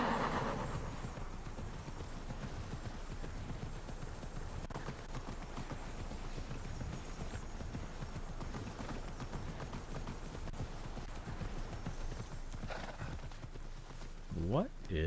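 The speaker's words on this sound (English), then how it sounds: "let's hop the horse" Horse hooves gallop in a steady clip-clop rhythm across the open world of the video game Immortals Fenyx Rising, loud and continuous, with a whinny near the end and a player talking over it.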